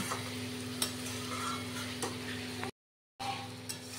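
Potatoes being stir-fried in a pan: a spoon scrapes and stirs over a steady close sizzle, broken by a brief silent gap before the stirring resumes.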